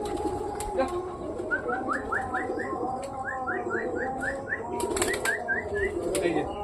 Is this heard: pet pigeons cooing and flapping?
yes